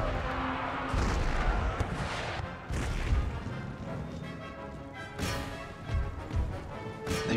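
Artillery pounds cavalry in the Empire Total War battle, a continuous rumbling din of booms and crashes rolling on with heavier thuds breaking through.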